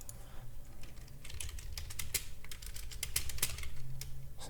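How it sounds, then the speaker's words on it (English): Rapid typing on a computer keyboard during a live afternoon stock day-trading session, a steady run of close, crisp key clicks with no voices. "If I could type."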